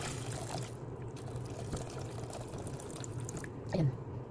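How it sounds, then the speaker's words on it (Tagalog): Hot boiled water pours into a cooking pot of softened onion, a steady low splashing trickle under a voice, ending in a brief louder splash. "pwede natin lagyan ng mainit na tubig. Ito yung pinakuluan kong tubig."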